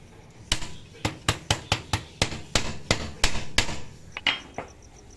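Sharp hammer blows nailing wire mesh onto a homemade bird cage, a dozen or so strikes in a fairly steady rhythm, close and crisp, with a few lighter taps near the end.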